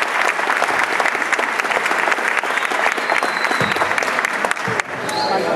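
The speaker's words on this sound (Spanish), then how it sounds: "Aplausos a ustedes mismos." Audience at a live comedy show in Cabaiguán applauds steadily, dense and close throughout, with a few whoops and a brief dip near the end before the clapping resumes.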